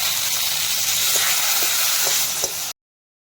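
Tempering spices hit hot oil with a loud, steady sizzling hiss and a few faint pops underneath before it cuts off abruptly.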